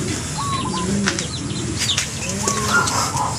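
Racing pigeons fly overhead during a fun race in Leyte. Their wings flap loudly and continuously, with a few faint chirps and coos in the background.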